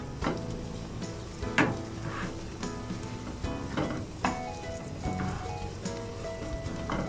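Vegan potato and pumpkin cakes sizzle softly in a frying pan, a continuous gentle crackle broken by a few sharp clicks and scrapes as they are turned with chopsticks, close and quiet with no talking.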